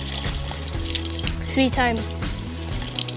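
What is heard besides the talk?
water running from a tap during ablution washing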